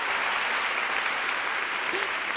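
Steady applause from a church congregation fills the whole stretch, a dense even clatter of many hands clapping without letup.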